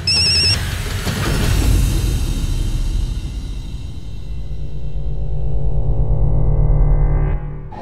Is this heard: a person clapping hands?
no